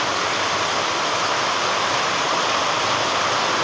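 Heavy monsoon downpour at a farm in Lavarda, a loud, dense and steady roar of rain that stays even throughout without pauses or voices.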